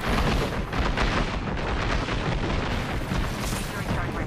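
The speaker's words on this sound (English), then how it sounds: "Look out, grenade!" A grenade goes off during an Apex Legends match, a loud, dense burst of explosive noise that rumbles on for several seconds amid ongoing gunfire and game effects, with no clean gap between blasts.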